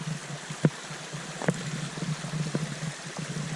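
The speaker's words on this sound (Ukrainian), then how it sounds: "І поряд з дорогою тече більш потужний струмок." A mountain stream flows beside a road, giving a steady rushing, babbling wash of water with a few sharp knocks and splashes breaking through. No voices.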